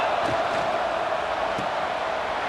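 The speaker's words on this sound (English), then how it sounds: "this home crowd is fired up and ready to make a difference today" A home crowd roars in College Football 26, a dense, steady wash of stadium cheering that holds at a constant level the whole time, with faint voices mixed in.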